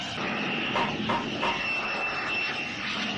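A light aircraft's engine drones steadily in flight, a continuous mid-pitched hum with faint rising pulses, heard alone without talk in an animated film.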